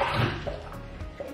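Water poured into a Stanley tumbler, a brief close splashing fill with a few drips, heard alone without talk.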